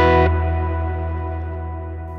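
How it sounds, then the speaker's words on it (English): A Sonicake Matribox reverb set with pre-delay off and decay at maximum rings out alone after a brief guitar chord, its long, broad tail of sustained tones fading only slowly across two seconds. "that's much bigger and broader and longer tails in the trails than the whole reverb"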